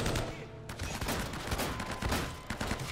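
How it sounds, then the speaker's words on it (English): Dense, loud gunfire from an enemy blind-firing in Uncharted: Drake's Fortune, with rapid overlapping shots and heavy blasts running through the whole stretch rather than a few clearly separate reports. "So he blind fires 3 times and then has like this hardcore blast in the last one that like breaks boxes"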